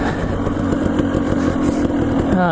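A Husqvarna TE250 dirt bike engine buzzes loudly and close while being ridden on rough terrain, a steady rasping drone with small throttle fluctuations and a rising rev at the very end.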